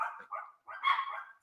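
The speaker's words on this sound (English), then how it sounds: "Look at my dogs bugging out, just barking their heads off." Dogs in a house bark and yip in a quick series of short, mid-pitched calls, fairly close and quiet, with no voices over them.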